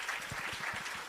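Audience clapping at a public speaking event, a steady broadband patter of many hands lasting about a second, moderately loud and even throughout, with no voices over it.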